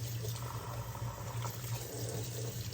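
Tap water runs steadily into a kitchen sink while dishes and a whisk are rinsed under the stream, a continuous close splashing hiss with no talking.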